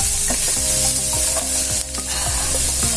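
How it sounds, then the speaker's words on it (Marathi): A spoon stirs spices into onions frying in a pan for tomato bhurji, with steady loud sizzling and repeated scraping strokes in a regular rhythm and no voices. "हे सर्व टाकून आपण कांद्यात व्यवस्थित असं मिक्स करून घेणार आहोत"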